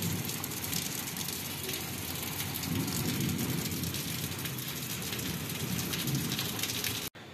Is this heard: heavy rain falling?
yes